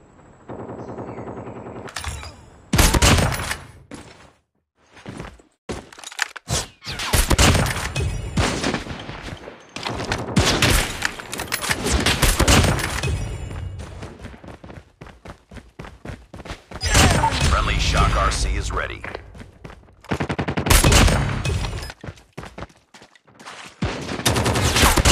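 Gunfire in Call of Duty Mobile, repeated loud bursts of automatic fire separated by short silences, each burst sharp and close with rattling rapid shots.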